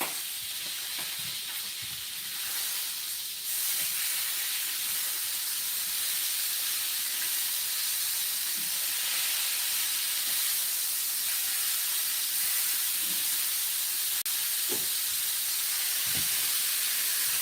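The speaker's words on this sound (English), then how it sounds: "A nice sear on the chicken, okay?" Chicken sears in a hot pan, a loud continuous sizzling hiss with occasional faint pops and clinks, steady throughout.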